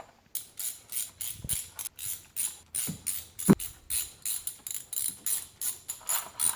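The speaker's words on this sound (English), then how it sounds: "And then I tighten everything with a wrench, but not too much, just until the bolts kind of stop" A ratchet wrench tightening the valve cover bolts on a small car, a rapid run of close, crisp clicking strokes in steady rhythm, with a few louder metallic clunks along the way.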